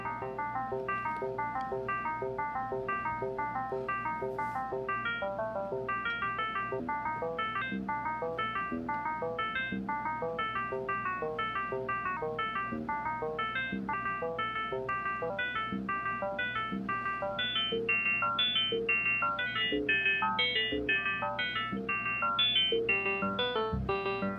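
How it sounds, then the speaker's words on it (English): Modular synthesizer playing quick, bright plucked note patterns through a ping pong delay, steady bouncing repeats over a low sustained drone, fairly quiet, with no talk. "We're using a ping pong delay."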